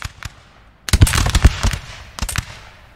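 Infantry volleys ring out in the Napoleon Total War video game: a few sharp musket cracks, then a dense burst of overlapping gunfire, ending in a final close volley.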